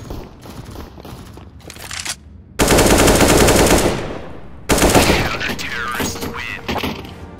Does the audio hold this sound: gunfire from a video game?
yes